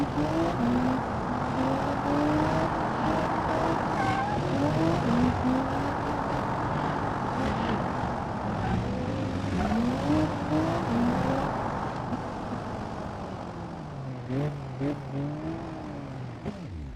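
An ETK car drifting in BeamNG.Drive, its engine whining and revving in rising and falling sweeps with tire noise, continuous and fairly loud, no talking.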